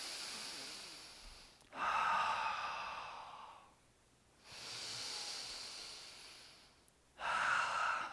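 Slow, deep breaths during a yoga splits and inner groin stretch, close and breathy. Three long hissing exhales or inhales are separated by brief quiet gaps.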